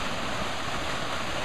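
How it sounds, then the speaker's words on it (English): A Japanese waterfall at an Aikikai dojo in Ibaraki used for misogi purification produces a dense, steady roar of falling water, loud and continuous with no pauses. "This is a Japanese waterfall purification."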